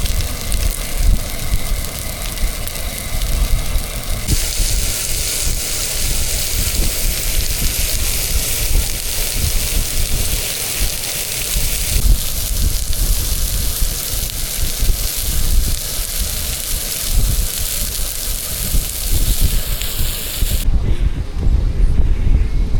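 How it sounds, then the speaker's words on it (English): Strong wind on a beach at Anclote Key Preserve, a steady loud roar and buffeting against the microphone that runs unbroken for the whole stretch. "The wind's blowing so hard we had to block it with a tree."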